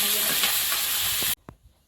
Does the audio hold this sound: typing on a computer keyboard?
no